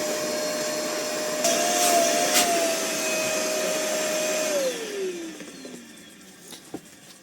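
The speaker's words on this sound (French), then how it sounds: "on va passer un petit coup d'aspirateur." A small household vacuum cleaner runs steadily and loud, with a sustained whine that holds level, then winds down as the motor is switched off and spins to a stop.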